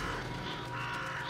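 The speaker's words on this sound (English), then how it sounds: "Crows." Crows cawing in a video game, a steady wash of harsh calls set against a constant ambient drone, fairly faint and with no speech.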